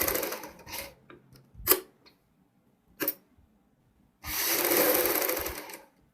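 A sewing machine stitches fabric for a front V-neck in short bursts, a few quick rattling runs separated by pauses, then a longer steady whirring run near the end, close up with no talking.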